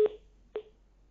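Two short electronic dialing tones about half a second apart come over a news studio phone line as a call to a guest fails to connect. They are clean and fairly faint, with no talk.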